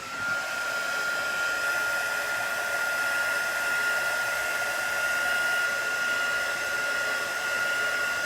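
A hair dryer blows at a steady whine for several seconds, drying chalk paste on a Chalk Couture craft project, close and constant with no speech.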